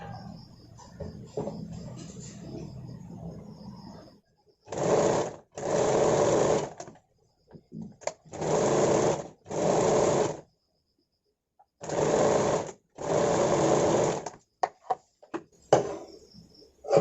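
A sewing machine runs in about six short, loud bursts while stitching a part of a katori-cut blouse, each burst a close whirring drone separated by silent pauses and softer handling noises.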